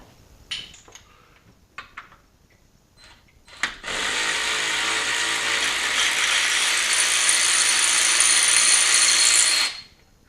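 A ratchet turns a loose damper bolt on the LS2 engine of a Cadillac CTS-V, first as a few scattered clicks, then as a fast, loud, continuous ratcheting buzz lasting about six seconds before it stops abruptly.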